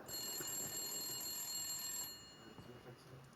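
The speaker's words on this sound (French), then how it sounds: "je vais répondre. Où est le téléphone?" A telephone rings in the Red Dead Redemption Western game, a shrill metallic bell trill running steadily for about two seconds then stopping, faint under low background noise.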